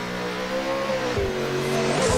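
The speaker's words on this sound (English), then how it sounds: "He's doing his burnouts." A V8 Supercars race car in a sim racing game does burnouts, its engine holding a high droning rev with brief dips and squealing tyre noise, loud and continuous with no voices.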